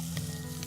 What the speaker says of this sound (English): So we want to get this into our hot oil, like so.